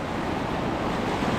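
Ocean surf at Sombrio Beach at high tide, a dense, steady wash of breaking waves mixed with wind rumble, constant and fairly loud with no talking.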